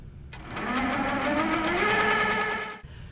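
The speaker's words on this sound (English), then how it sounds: "I'm going to start stitching" A sewing machine runs a steady stitching burst of close, even mechanical whirring for about two and a half seconds after a brief quiet start, then stops.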